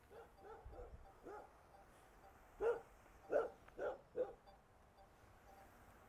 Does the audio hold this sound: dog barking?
yes